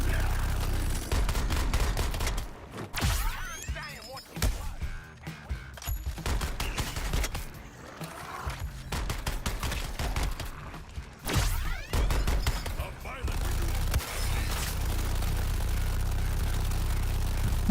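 Rapid, sustained video game gunfire blasting at zits, dense loud bursts of shots with brief gaps, continuing through most of the stretch with occasional thuds.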